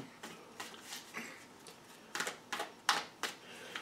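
Soft, quick riffling and tapping of shuffled tarot cards, in short irregular bursts, close and quiet with no talking.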